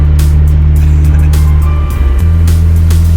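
A lifted Ford F-150 on 35-inch tires, its engine droning loud and steady from close by with a brief dip in pitch partway through, with no talking.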